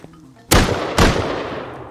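Gunfire in a video game, two loud, close booming shots about half a second apart, each followed by a long decaying tail.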